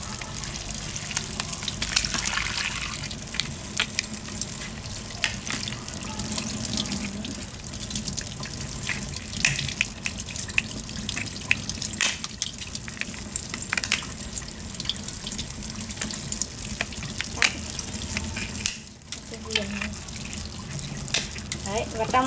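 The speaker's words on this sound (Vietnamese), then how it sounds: "Phần này mọi người hãy rửa qua nhá." Meat from a Nghệ An regional specialty dish rinsed under a running kitchen tap, a steady gushing water stream splashing into a sink for over twenty seconds, with brief soft voices in the background.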